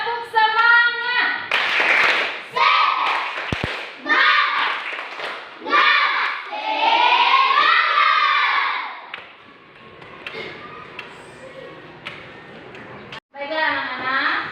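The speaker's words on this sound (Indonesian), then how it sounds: "Tepuk semangat dulu, tepuk semangat!" Schoolchildren in an Indonesian classroom do a rhythmic spirit clap, bursts of group clapping mixed with loud shouted chanting and cheering voices, followed by quieter chatter.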